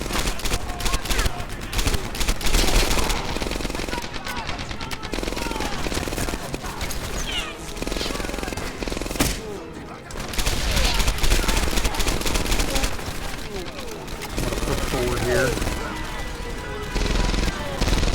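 Dense gunfire in the Medal of Honor: Airborne video game, sustained machine-gun bursts and rifle shots with crashes in a loud battle mix, a voice speaking over it at times.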